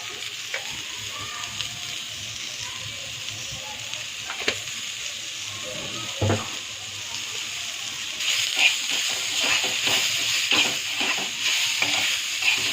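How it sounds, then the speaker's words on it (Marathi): Onion and tomato roasting in a pan for a hotel-style Kolhapuri veg curry, a continuous close sizzle with occasional stirring scrapes that grows louder and brighter toward the end. "आता भाजून घेऊया कांदा टमाटो"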